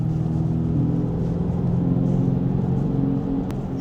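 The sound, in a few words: electric car's simulated exhaust sound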